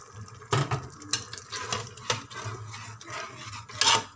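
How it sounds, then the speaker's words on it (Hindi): Water pouring into a pan of frying mash dal (urad lentils) in a street-style kitchen, a splashing, sizzling wash with clattering utensil knocks and stirring, loud bursts near the start and end. "अब इसके अंदर तकरीबन 1 गिलास जितना पानी"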